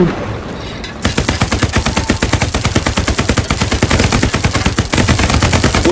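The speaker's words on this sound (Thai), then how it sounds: "ยิงมั่วๆนั้นนะ" Rapid machine-gun fire in the World War II shooter Hell Let Loose, a loud, sustained rattle of closely spaced shots after a brief quiet start, with a short pause before it resumes.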